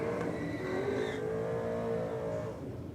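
An early model Falcon drag races against a Commodore, engines roaring loud and close as they accelerate hard down the track, a sustained revving blast with no talk over it.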